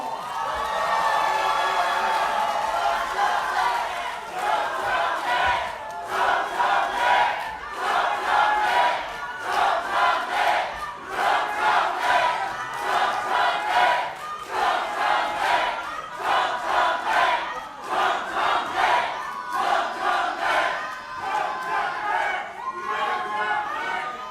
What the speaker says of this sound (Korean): 정청래 부모님을 뜨거운 함성과 박수로 모시도록 하겠습니다.